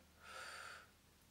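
A short, soft breath pushed out halfway during a breathing exercise, a single airy exhale lasting about half a second, close and quiet.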